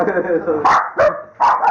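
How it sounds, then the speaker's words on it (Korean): Puppies in an office bark loudly in a quick series of sharp yaps, close by, over a murmur of people talking. "사무실에 있던 강아지들이 요란하게 짖기 시작하고"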